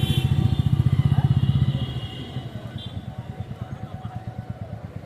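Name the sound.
Royal Enfield motorcycle engine running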